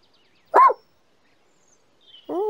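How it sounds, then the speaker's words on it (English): A dog in a children's Teletubbies animal-themed episode gives a single short bark, followed after a pause by the start of a second one, clear against silence. "Was a dog."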